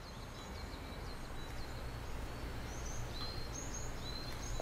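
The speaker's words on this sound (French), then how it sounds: "Nous entendons des oiseaux chanter." Birds singing around the Eiheiji Zen temple amid greenery, a series of faint, distant high chirps and short whistles over a soft, steady ambient hum.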